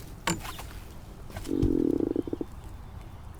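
A freshly caught drum fish gives a short burst of low, buzzy croaking pulses, close and fairly loud, followed by a few weaker grunts against outdoor background noise.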